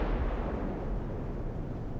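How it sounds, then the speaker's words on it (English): Naval guns firing in Ultimate Admiral: Dreadnoughts, a deep, heavy boom that rumbles and slowly decays, loud and close. "Hopefully my little guns automatically fire on the smaller ships"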